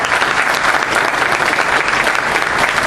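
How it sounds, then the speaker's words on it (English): Audience applauds participants at the 2012 Libertarian Party of Indiana presidential debate, a dense, steady wash of clapping throughout, loud and close, with no talking over it. "Let's give these three gentlemen and Abdul a large round of applause"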